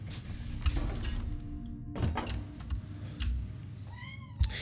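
A needy pet cat meows loudly several times in short, insistent calls, with one rising drawn-out meow near the end, close to the listener in an indoor room.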